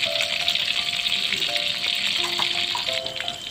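Clams sizzle steadily as they fry in Padang sauce, a continuous bright crackling hiss with faint stirring clinks, close and fairly loud.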